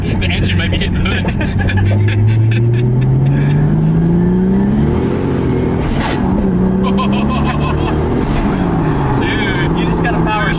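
Single-turbo Nissan S14 240SX engine revving hard while driving, pitch climbing steeply through the gears with shifts and turbo whoosh, loud and close inside the car as occupants talk over it.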